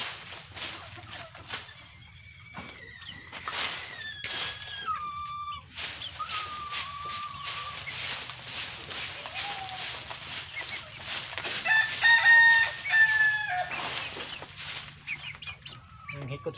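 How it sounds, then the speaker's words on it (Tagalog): Clucking chickens and a rooster call in a backyard amid outdoor background noise and music-like tones, with a louder drawn-out rooster crow near the end. "alagang manok"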